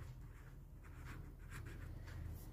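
Soft scratchy strokes of a yellow colour pencil or marker writing on a paper map of India's soil types, quiet and close, with no talking.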